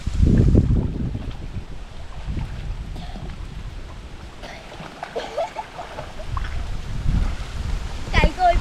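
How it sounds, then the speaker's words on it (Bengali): Strong wind buffets the microphone in loud gusts, with faint voices and water noise underneath. "এই দেখুন এমন হাওয়া"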